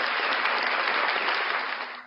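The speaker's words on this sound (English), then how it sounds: "big round of applause" Audience applause at a live morning show, a dense, steady clapping crowd that holds strong for about two seconds before fading away at the end.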